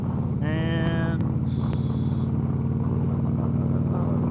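Heavy, steady engine and road-traffic rumble surrounds a motorcycle, a constant low drone with brief higher tonal whines and a horn-like tone early on, no speech over it.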